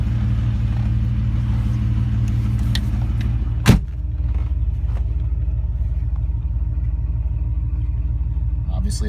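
A 1970 Fiat Dino engine idles steadily after a cold start, a smooth low rumble that runs unbroken throughout, with one sharp click or knock near the middle.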